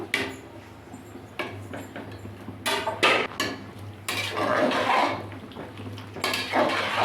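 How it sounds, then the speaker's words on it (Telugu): A spoon scrapes and clanks against a pot while masala is stirred into raw jackfruit biryani, giving irregular metallic knocks and bursts of rustling close by over a low hum. No one talks. "బాగా కింద నుంచి బాగా దానికి మసాలా అంతా బాగా పట్టించేయాలి"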